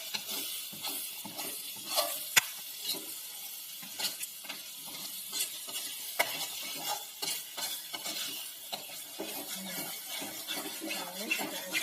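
A spatula stirring beef rendang spice paste in oil in a mosque kitchen, repeated scraping strokes against the pan over a soft sizzle, close and irregular with short louder scrapes.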